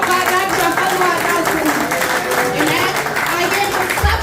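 A congregation claps at a church inauguration service, moderate applause that runs steadily throughout, mixed with tonal music or voices in the hall.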